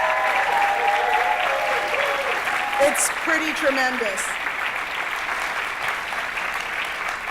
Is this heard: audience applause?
yes